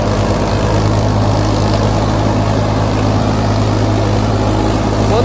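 A loud Farmtrac 65 EPI tractor engine drones steadily while running an 8-foot rotavator, a low, even mechanical hum with no pauses and no voices.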